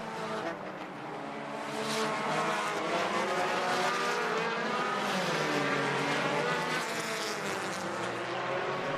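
Race cars roar around a speedway track during a Plunger Night event, a dense continuous engine din that swells and holds loud, with several cars blending together.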